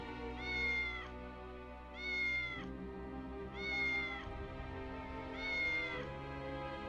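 Cat meowing in the video game Triangle Strategy: four evenly spaced, drawn-out meows over a steady musical background, clear and prominent with no talking.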